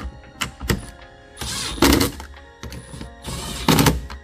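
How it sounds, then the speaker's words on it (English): Milwaukee impact gun on its lowest setting driving 10mm bolts during a 2022+ WRX taillight install, heard as two short rattling bursts of hammering, close and loud, separated by quieter handling noises. "Use our Milwaukee impact gun on level 1."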